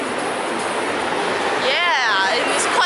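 Train passing in Bangkok's crowded Siam shopping district near MBK, a steady loud rushing rumble with a rising and falling whine midway, heard amid busy street ambience and talk.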